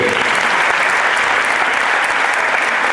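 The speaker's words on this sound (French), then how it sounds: "Vous applaudissez Kéline, s'il vous plaît" Loud, continuous applause from a Miss Rouen 2019 pageant audience greets a contestant, a thick uniform wash of clapping with no pauses or breaks from start to finish.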